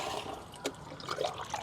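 Water is scooped out of a fridge box used as a guppy tank with a net, making short close splashes and trickles.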